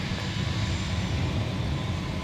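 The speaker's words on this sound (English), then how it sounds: "This A330 is going off to Amsterdam tonight." An Airbus A330 jet airliner departs for Amsterdam at night from Minneapolis–Saint Paul airport, its engines a steady, broad roar that holds evenly from a moderate distance.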